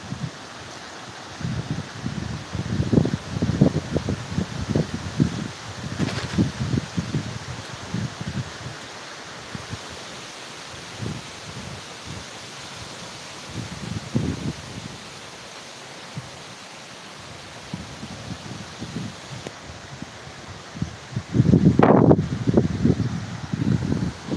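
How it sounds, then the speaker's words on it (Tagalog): Strong gusts of wind blow in irregular surges, rustling and buffeting the microphone, with a louder blast near the end. "Grabe lakas ng hangin dito guys. Nakakatakot."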